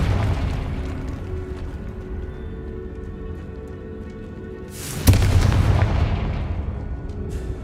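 Confringo explosion spell in the video game Hogwarts Legacy: a steady low rumble, then a sudden loud blast that decays into a roaring, crackling tail.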